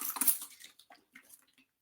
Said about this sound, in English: Now it's going to get really attractive because I'm going to soak it.